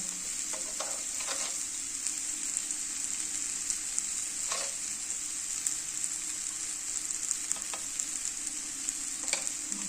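Okra sizzles and fries with masala in a pan, a steady bright hiss throughout with occasional soft scrapes of stirring.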